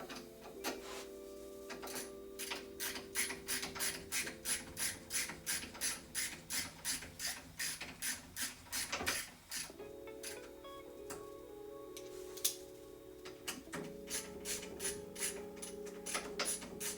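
Rapid mechanical ratchet clicks from a tool loosening a treadmill belt, a steady run of ticks that pauses and resumes, close and moderately loud over a low motor-like hum.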